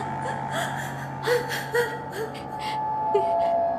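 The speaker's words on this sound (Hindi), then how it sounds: "ये माया के रोने की आवाज है।" A woman in a horror movie gives several short gasping sobs and whimpers, fairly close, over a low steady background drone.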